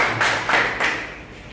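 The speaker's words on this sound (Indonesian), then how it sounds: "Kita kasih aplaus untuk pemaparan dari kelompok 3." A middle-school classroom claps for a group's presentation, giving a short patter of a few hands clapping together at close range for about a second before it fades.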